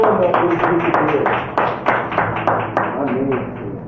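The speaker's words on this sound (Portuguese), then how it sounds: "Você pode aplaudir ao Senhor?" A church congregation claps in rhythmic, steady beats, close and loud, with voices murmuring underneath.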